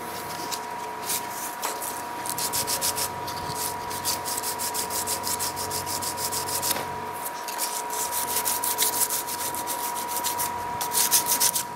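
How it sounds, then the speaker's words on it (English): Metal being hand-filed while clamped in a vise produces rapid, rhythmic rasping strokes that run continuously and stay close and fairly loud, with only brief pauses between passes. "come back after I've done a little bit of filing here"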